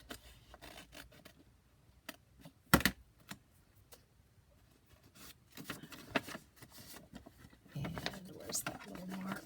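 Scissors cutting paper for a junk journal envelope, with short crisp snips and a sharp clatter early on, then rubbing and handling noises, quiet and close, with some talk between cuts.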